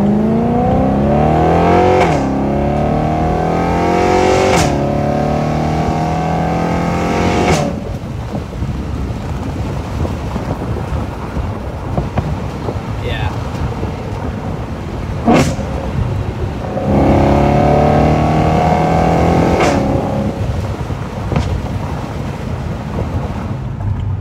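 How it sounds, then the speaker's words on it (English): A BMW E93 M3 convertible with the top down rises in a series of loud exhaust pulls, each climbing through the gears, with wind noise rushing between and a quieter cruising stretch in the middle. "listen to that beautiful exhaust sound"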